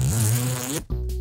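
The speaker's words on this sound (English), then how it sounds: "Big old beefy ass zippers." A heavy zipper on a waxed canvas daily-carry backpack is pulled in one quick, close rasping stroke, followed by a brief pause and a short second tug.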